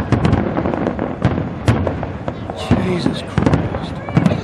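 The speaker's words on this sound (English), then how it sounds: "I've never seen fireworks go this long before." Airshow grand finale fireworks in Townsville crackle and boom continuously at close range, dense overlapping bursts and pops, while an excited spectator exclaims over them.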